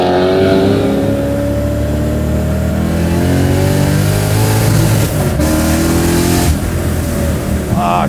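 Supercharged V8 swapped into a BMW E30 revs loudly and steadily, its pitch climbing through the RPMs in a long rising sweep, with a brief dip before surging again, close and continuous throughout.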